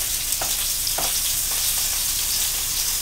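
Chopped broccoli and Italian sausage fry in a pan with a loud, even close sizzle throughout, punctuated by a few soft stirring scrapes and no speech.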